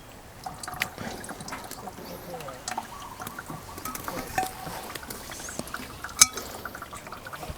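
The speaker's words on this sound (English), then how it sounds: "So you can still hear it dripping in there" Fermented plant juice drips from a squeezed bag of plant material, making faint, irregular small patters and drops against a quiet background.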